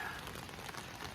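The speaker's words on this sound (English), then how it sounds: "it's starting to rain" Rain pattering on a tent at night beside a lake in the wilderness, a dense steady hiss of drops close overhead.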